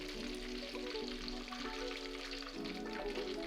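Fish coated in gram flour and maida batter frying in hot oil, a steady close sizzle with bubbling crackle throughout, no voices.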